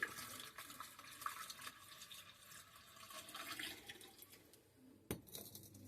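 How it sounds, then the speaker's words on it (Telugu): Mineral water, one litre, poured into a dishwasher during a home demonstration, a steady splashing pour that fades partway through, ending with a sharp knock. "సో ఒక లీటర్ మిల్టర్ వాటర్ అనేది ఈ విధంగా పోసేసి"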